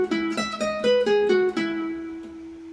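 A guitar picks single notes one after another, stepping through a short major scale run, with the last note ringing out and fading.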